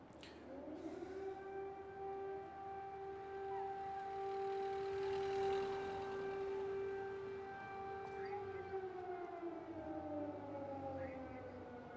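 Air raid sirens wail over Independence Square in Kyiv, a long steady tonal howl held for many seconds with a slow falling pitch toward the end, distant and echoing across the open city.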